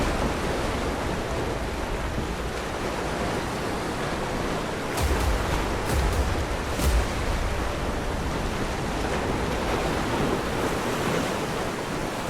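Ocean waves crash against the cliffs at Pacifica, a steady, dense roar of surf throughout with a few heavier surges near the middle, no voices.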